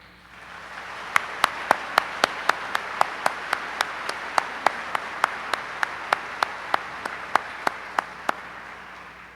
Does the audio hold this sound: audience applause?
yes